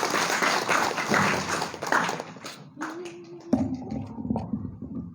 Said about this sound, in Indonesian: Oke, tepuk tangan sekali lagi buat